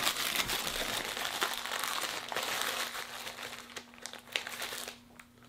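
A resealable plastic zipper bag with blue bags inside, found in an electronics returns box, crinkles and crackles steadily in close handling, with a few sharper snaps near the end.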